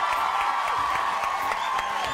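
A television studio audience cheers and applauds for a Brazilian band, a dense, steady crowd roar with scattered claps that holds throughout at close range.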